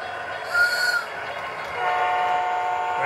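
A thin, high whistle sounds briefly, then a second steady whistle tone from a Lionel LionChief 44-tonner toy train locomotive holds to the end over a low background hum.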